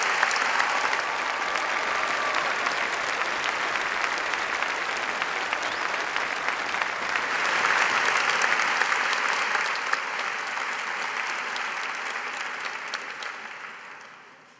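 Large graduation ceremony audience applauding the Faculty of Medicine graduating class, a sustained, even roar of clapping that holds for many seconds before fading out at the end.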